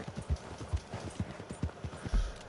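Rhythmic clip-clop of horse hooves trotting at a steady pace in the video game Red Dead Redemption, fairly close, with light background ambience and no talking.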